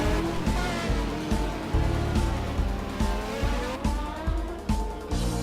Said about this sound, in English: In turn 12, Philippus outbrakes himself, giving Ziffering the opportunity to take over for P3.